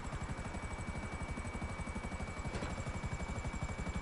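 A helicopter in the video game GTA 5 gives a steady, rhythmic rotor thump that runs continuously at a low, fairly faint level with no talk over it.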